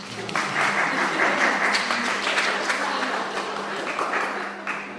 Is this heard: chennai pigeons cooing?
no